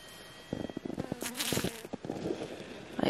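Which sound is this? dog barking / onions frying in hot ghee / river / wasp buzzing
wasp buzzing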